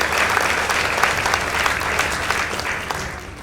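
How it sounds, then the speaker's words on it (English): Steady, dense applause from an audience honoring the Olympic High School debate team after its win over Dandora Girls High School, holding at an even level throughout with no voices over it. "So let's give them a round of applause."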